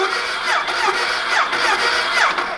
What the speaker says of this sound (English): The engine at least turns over, so that is a good sign.